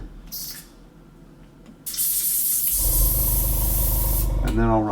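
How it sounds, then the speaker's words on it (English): A spray bottle misting a bit of water, heard as short hissing bursts followed by a long, steady loud spray hiss, with a soft squeak near the end. "so then I just usually spray a bit of water."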